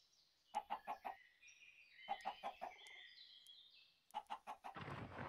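Minecraft chickens cluck in short rhythmic bursts of three or four notes, repeated three times with quiet gaps between, clear and fairly soft, with light game sounds in between.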